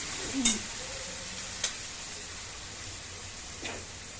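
Onions frying with masala in a pan for dana methi khichdi and kadhi pakoda, a quiet continuous sizzle with a few sharp clicks of stirring against the pan.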